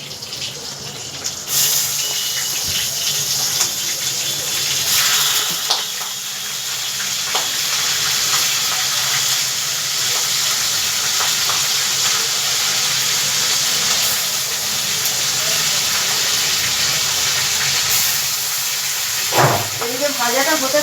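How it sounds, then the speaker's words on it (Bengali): Prawns fry in hot oil with a loud, continuous hissing sizzle close up, steady throughout with a few brief clinks near the end. "বাকি মাছগুলো আমি ভেজে নিচ্ছি"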